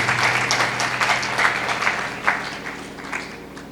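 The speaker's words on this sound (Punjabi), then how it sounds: "ਤਾਲੀ ਮਾਰੀਏ ਜ਼ੋਰ ਦੇ ਨਾਲ।" Congregation clapping together at a Punjabi church sermon, a dense, steady wash of many hands applauding from start to finish, fairly loud, with a few sharper clap bursts standing out and no speech.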